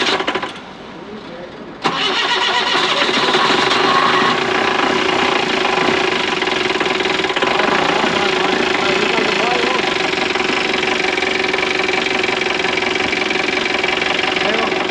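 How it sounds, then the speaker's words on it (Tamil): A vehicle engine cranks and fires after a quiet moment, then settles into a loud, steady idle with a rough knocking rumble that holds for the rest of the clip. "ஸ்டார்ட் ஆயிடுச்சுங்க. கிளம்பிடுவோன்னு நினைக்கிறேன். கிளம்பியாச்சுங்க வண்டி."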